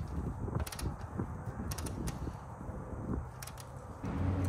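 A 10 millimeter ratchet tightening the bolt of a quick-release bumper holder, giving clicking, creaking mechanical turns in short bursts over a low background hum.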